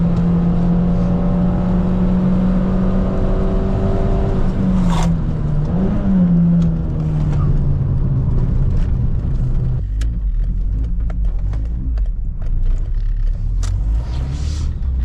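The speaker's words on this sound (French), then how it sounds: "Ah, ça prend des tours à n'en plus finir." Peugeot 206 RC petrol engine pulling hard under acceleration, heard from inside the car: a loud, sustained droning engine note that slowly drops in pitch, then gives way to rougher road and engine rumble.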